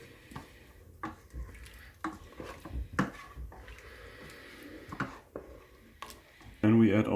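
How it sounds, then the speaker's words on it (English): Mongolian beef sauce with brown sugar and chili flakes is stirred in a pressure cooker: soft scraping and utensil knocks against the pot recur through the clip, ending in a louder bubbling burst. "Then you stir."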